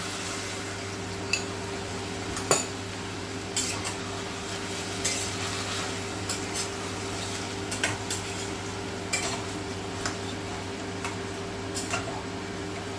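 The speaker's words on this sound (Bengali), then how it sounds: "কর্নফ্লাওয়ার দিয়ে এক মিনিট নাড়াচাড়া করে নিলেই রেডি হয়ে যাবে" A spoon scrapes regularly through paneer chilli thickened with cornflour slurry in a pan, giving a steady rhythm of light taps and scrapes roughly every second over a constant low hum.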